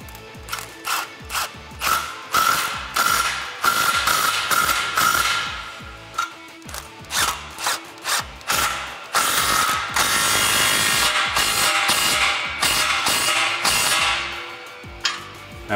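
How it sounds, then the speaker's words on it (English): A ratchet with a 15mm socket tightens exhaust clamps on a 2005-2010 Mustang GT axle-back, giving rapid close clicking bursts with short pauses and a couple of longer continuous runs. "Grab your 15mm socket and tighten your clamps down."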